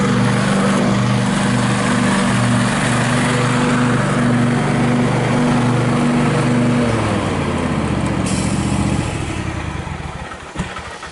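An International Harvester LA hit and miss engine, an old farm engine that can run on gas or kerosene, chugs loudly and steadily up close, its firing note shifting midway before slowing and fading out near the end.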